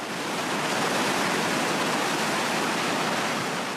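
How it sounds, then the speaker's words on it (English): A volcanic lahar from Ruapehu's burst crater lake surges down the mountainside river toward Tangawai, a loud, unbroken hissing roar of rushing water and debris with no break or voices. "Ruapehu's crater lake has burst and swept down the mountainside to Tangawai and out to sea, and it hissed and roared as it came"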